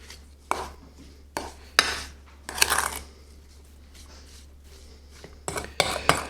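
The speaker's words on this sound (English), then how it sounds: "And now we want to mix that all together and make sure that the meat's all coated." Seasoned stew beef is tossed and mixed in a bowl for a poor man's filet mignon, with scattered clinks and scraping knocks of a utensil against the bowl between quieter stretches.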